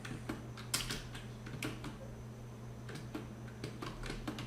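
Typing on a computer keyboard, quick irregular bursts of close light key clicks over a faint steady hum, no voices.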